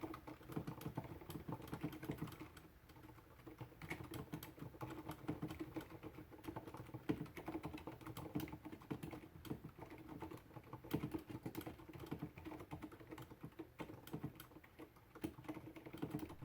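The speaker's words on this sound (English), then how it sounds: "Here's a typing test. These are Cherry MX Silent Reds" Fast, continuous typing on a WASD V2 TKL keyboard with Cherry MX Silent Red switches, heard close up as a muted, scratchy patter of keystrokes with no talking.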